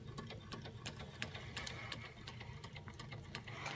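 A Wilesco D455 model steam engine runs close by with its boiler bubbling, giving a quick, even train of light mechanical ticks over a steady low hum.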